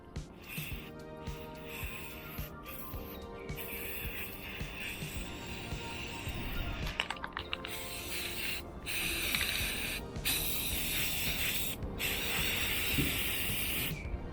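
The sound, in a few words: spray painting motorcycle fender trim black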